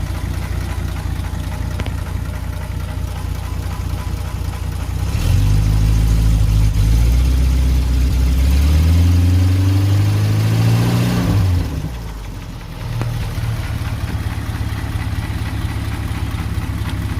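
A car engine fitted with a remanufactured 6-volt generator idles, then revs up for several seconds with a rising and falling roar before dropping back to a steady idle, loud and close with no talk.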